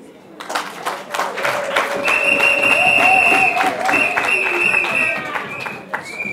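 An audience claps and cheers at a women's political colloquium, loud sustained applause with whistling or ululating tones riding over it, close and dense throughout.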